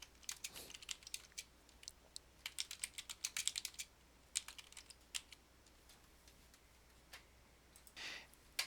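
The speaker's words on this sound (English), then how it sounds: "And you kind of type in things as you go." Computer keyboard typing during a rehab evaluation entry: bursts of quick, light key clicks in irregular clusters, close and fairly faint, with brief pauses between runs and no talking.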